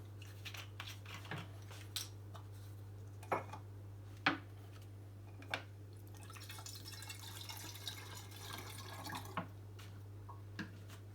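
Water swishing and sloshing inside an already clean wine bottle being rinsed with a sulfite solution, soft irregular liquid movement with sharp clinks of glass, under a steady low hum.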